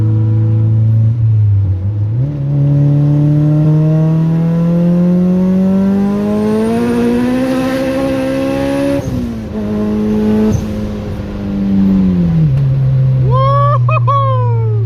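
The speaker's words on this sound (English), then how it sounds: "I'm about to just do a third gear pull." A turbocharged LS-swapped VTEC EG hatchback pulling hard in third gear, its loud engine rising steadily in pitch with a brief dip at a shift before climbing again, then settling, heard from inside the car.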